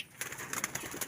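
Pigeons at a loft give soft, brief coos, a few quick throaty pulses in about a second, fairly faint and with no talk.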